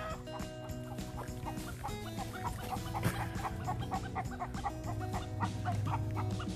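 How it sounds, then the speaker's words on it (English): Wild chickens roaming loose along a Florida trail cluck steadily in a dense, overlapping chorus, with rhythmic clucks repeating close by throughout against continuous outdoor background noise. "We got wild chickens in Florida."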